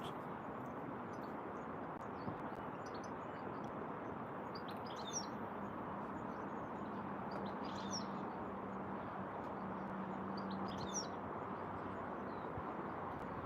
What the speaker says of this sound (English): There's a lot of birds about.